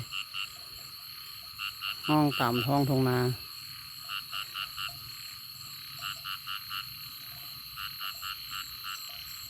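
Frogs croak in rice fields after rain: soft, repeated croaks pulse steadily with a shrill insect drone, and one nearer frog gives a louder rattling burst. A voice speaks briefly.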